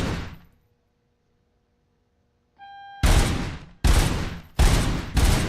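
Heavy gunfire from the video game RoboCop: Rogue City: one blast fades out, a short electronic tone follows, then four loud, booming shots land about a second apart, each ringing out before the next. No speech is heard.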